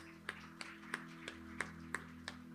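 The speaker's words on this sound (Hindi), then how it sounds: "जोर से तालियां" Seven separate claps ring out at a steady, slow pace over a low hum, faint and sparse, as an audience greets a visiting swami at a Gita Mahotsav gathering in Leicester.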